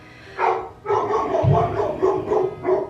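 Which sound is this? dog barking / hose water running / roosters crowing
dog barking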